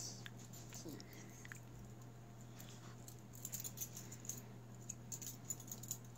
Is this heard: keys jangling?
yes